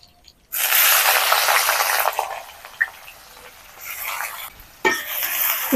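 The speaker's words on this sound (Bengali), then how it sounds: "একসাথে লাল করে ভেজে নেব পেঁয়াজটাকে" Onions frying with whole spices (bay leaf, cinnamon, cloves, peppercorns, green and black cardamom) for mutton biryani: a loud, steady sizzle that starts abruptly, briefly fades, then swells again with a few clinks, no talk.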